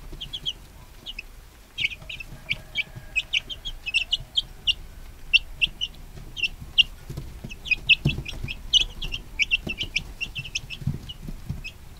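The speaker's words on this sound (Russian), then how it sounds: "Сейчас индюшат купили, будем их кормить луком." Newly bought turkey poults peeping at a farm, many high, rapid chirps overlapping in dense bursts, with low rustling and shuffling underneath and no talking.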